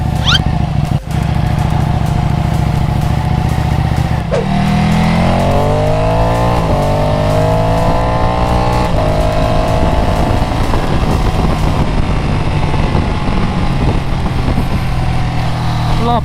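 A Ducati Panigale 899 sportbike roars loud and close while ridden, its engine note repeatedly climbing through the revs and dropping at each gear change, with steady wind rush throughout.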